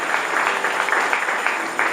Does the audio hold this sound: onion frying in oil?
no